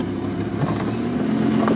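A Lamborghini Huracán eases off slowly from a standstill, a steady low engine hum and rumble filling the short moment without speech.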